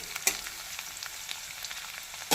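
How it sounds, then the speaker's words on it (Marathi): Garlic sizzles in oil in a kadhai, a short burst of crackling hiss with a few sharp pops, close and moderately loud. "लसूण आता मी कढईत टाकते"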